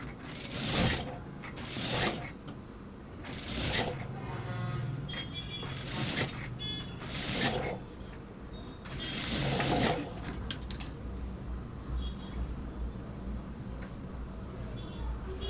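A sewing machine stitches the neckline and edge of a lined blouse in several short bursts of rapid mechanical whirring, separated by pauses with faint handling noise.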